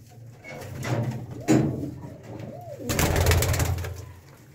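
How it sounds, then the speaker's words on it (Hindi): Pigeons cooing nearby, a few soft throaty coos with rustling and a brief bump between them. "देखो कबूतर"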